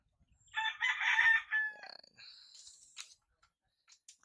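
A rooster crows nearby, one loud drawn-out call with a clear rise and fall, followed by faint clucks and soft clicking from chickens on a farm with goats.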